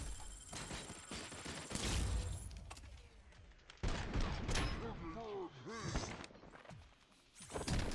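Gunfire in the video game Robocop: Unfinished Business: bursts of rapid shots and booming impacts pile up with game effects and music, dense and loud, while someone talks over parts of it.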